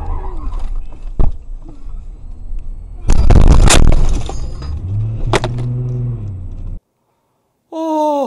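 A dump truck changing lanes strikes a passenger car, which then crosses the center line and slams into a streetlight: loud crashing impacts and a heavy roaring burst, a sharp bang, then silence before a brief tonal sound.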